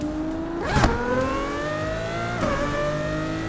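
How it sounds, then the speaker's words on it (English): A simulated car engine in a driving game revs upward in a rising whine, drops sharply at an upshift and climbs again, with a brief squeal near the start and no talk. "Let's wait for an upshift here."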